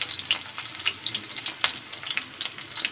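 Chopped onion frying in a pan for fried rice, with a steady crackling sizzle full of quick pops and faint stirring, close and fairly loud with no voices.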